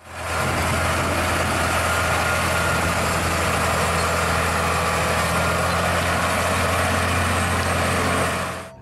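A truck pulling a trailer idles close by, its low steady rumble droning evenly and loudly through the whole stretch with no talk.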